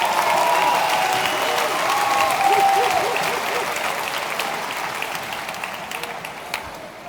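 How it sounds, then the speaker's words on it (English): Sustained applause from the audience at a West Deptford High School graduation ceremony, loud and steady as a dense wash of clapping that slowly tapers off over several seconds, with no voices over it. "Round of applause for all of those people."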